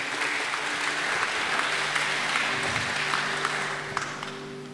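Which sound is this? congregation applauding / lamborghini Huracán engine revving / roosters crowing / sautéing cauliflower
congregation applauding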